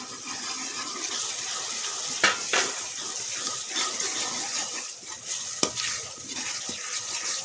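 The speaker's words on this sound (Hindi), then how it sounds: "और अच्छी तरह भुनाई करेंगे" Red chili and spices stir-frying in a pan, a steady close hiss of sizzling oil with a few sharp clinks of a stirring spoon against the metal.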